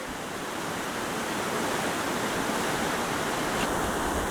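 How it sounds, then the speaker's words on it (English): Rapids of a flooded creek in Portland, Oregon, running fast with muddy water, give a steady, loud broadband rush that holds unbroken throughout, with no voices. "The rapids are, well, rapid."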